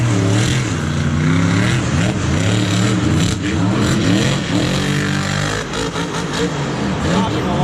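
Monster truck engine at a muddy stadium freestyle, revving in rapid throttle blips with frequent pops, loud and sustained throughout, with voices mixed into the din.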